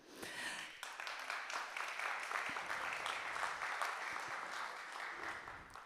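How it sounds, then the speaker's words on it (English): Conference audience bursts into sustained, dense applause for the STEM statistics at the SPINOFF and Horizon Europe info day, many hands clapping steadily for several seconds. "Big applause for this."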